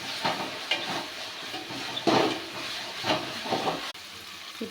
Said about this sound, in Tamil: இப்போ இந்த வெங்காயம் வதங்கிருச்சு.